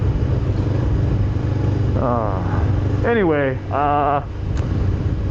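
Honda CBR 500R motorcycle engine droning steadily and loudly throughout a cold-weather ride, with wind rush and a rider's voice talking over it.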